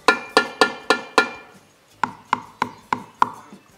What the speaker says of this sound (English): we can even maybe use a screwdriver to simulate something that might make it rattle.